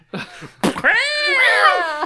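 A cat lets out a loud, drawn-out meow up close, preceded by a couple of short sharp sounds, with no talking over it.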